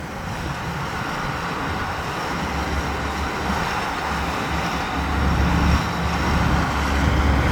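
A Tamco Z3000 combine harvester working a rice field gives a steady, moderately loud engine drone with a low rumble, rising slightly toward the end, with no voices.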